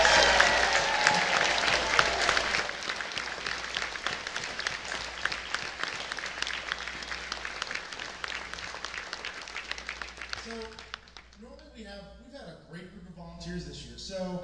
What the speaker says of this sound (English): give them all a big round of applause for all the work they're doing for you guys